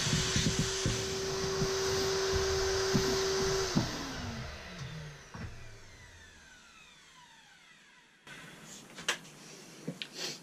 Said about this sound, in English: Just going to quickly hoover that up.